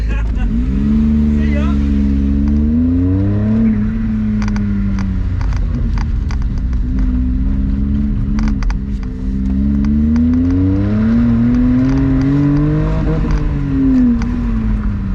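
A Smart car revs and accelerates away at an auto test event, its small engine rising and falling in pitch through repeated climbs, loud and close throughout, with people talking over the sound.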